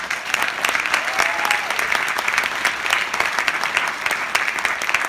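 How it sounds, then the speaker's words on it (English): A sustained, loud round of audience applause at an end-of-season sports team awards ceremony, with steady dense clapping throughout and no talk over it. "please give a big round of applause to my MIP"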